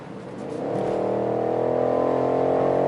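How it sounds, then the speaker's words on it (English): The V8 of a 2020 BMW X6 M50i SUV revs up from quiet, swelling into a loud, sustained sporty roar heard up close. "The sound that it makes, the V8, that sporty sound to it, it's really nice."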